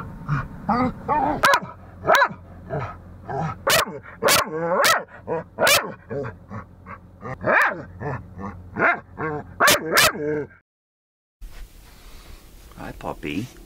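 A dog barks repeatedly in sharp, close bursts mixed with whines and yips, then a short silence.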